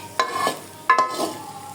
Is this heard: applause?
no